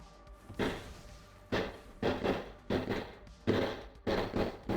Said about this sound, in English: Why is somebody setting up firework outside at midnight?